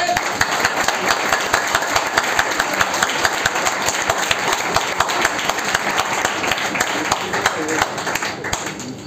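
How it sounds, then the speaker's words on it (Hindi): An audience at a paint training session applauds in a steady, sustained burst of clapping lasting several seconds, with a faint voice underneath. "ताली बजाओ।"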